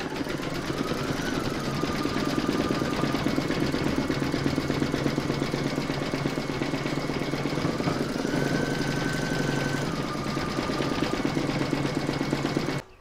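An in-the-hoop embroidery machine stitches the nose, whiskers and mouth on a pencil case with a fast, steady mechanical hum and rapid needle rhythm, its motor pitch rising and falling as the stitching shifts direction.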